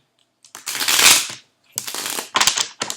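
Brisk riffling and shuffling of tarot cards in three bursts, close by, with short pauses between them and no talking.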